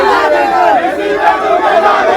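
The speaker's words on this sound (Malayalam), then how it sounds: "എന്നാൽ കെ.സി. വേണുഗോപാൽ പിന്നാലെ എത്തിയപ്പോൾ പ്രവർത്തകർ മുദ്രാവാക്യം വിളികളോടെ തോളിലേറ്റി സ്റ്റേജിലെത്തിക്കാൻ ശ്രമിച്ചു" Party workers at a political rally in Alappuzha chant slogans together, a loud, continuous crowd roar of voices close by.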